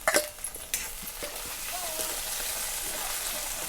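Tomatoes drop into a pan of onion and garlic frying in oil, with a few sharp clatters and splashes at the start, then a steady close sizzle that holds evenly to the end.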